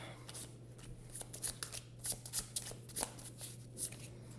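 Cards being shuffled during a round of the Legendary deckbuilding card game, a run of crisp riffling bursts close by over a steady low hum, with faint background voice.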